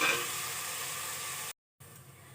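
Onions frying in a pan until golden, a steady close sizzle with hiss across the highs, broken by a brief silent cut before the frying resumes slightly quieter.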